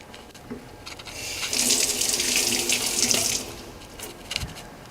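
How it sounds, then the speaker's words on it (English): Kitchen tap water runs for about two seconds as hands are rinsed during salad preparation, a soft steady splash close by that starts and stops cleanly amid faint handling noises. "Let me give my hands a quick rinse."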